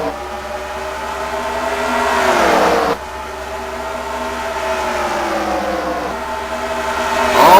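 Race cars in a NASCAR video game at Eldora speedway roar off at the start of the race. A loud, steady engine drone sweeps upward in pitch as they accelerate, with several rising revs as gears change.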